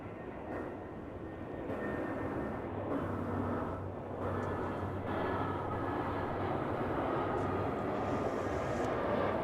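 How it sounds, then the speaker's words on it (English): An Airbus A320 arriving from San Antonio at DFW Airport produces a steady, moderately distant engine drone that rises slightly and holds, with no voices over it. "So we scan the skies here to bring you the arrival of this Airbus A320 from the Alamo City."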